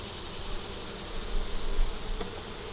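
Honey bees buzzing at an open, growing hive: a steady, dense drone of many bees close by, unbroken throughout with no voices.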